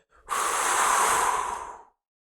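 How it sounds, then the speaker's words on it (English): Deep belly breath during a neck stretch: one long, close exhale or inhale of about a second and a half, airy and loud, with silence before and after. "you want to breathe from your belly"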